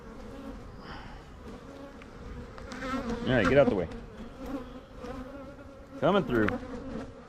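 Honey bees at an open hive drone steadily and fairly close, the buzz continuing between short bursts of talk by a nearby voice.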